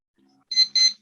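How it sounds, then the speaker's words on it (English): Two short, bright electronic timer beeps sound in quick succession during an online talk session, loud and clean against near silence. "I'll send the beep sound"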